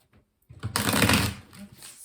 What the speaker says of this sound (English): just trying to shuffle the cards